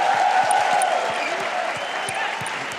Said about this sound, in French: ça déjà je pense que ça mérite un tonnerre d'applaudissements